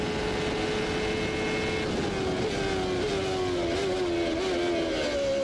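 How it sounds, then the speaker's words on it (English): A CART race car at Road America in 1994 brakes downhill toward turn 5, its engine note stepping through a rapid sequence of downshifts from sixth to second, loud and continuous with pitch falling in stages. "Down 4 gears. 6th all the way to 2nd."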